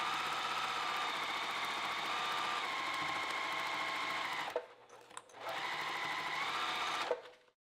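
A home sewing machine runs a long steady stitching whir through sweatshirt fabric, stops briefly with a few clicks, then runs again for a couple of seconds before halting.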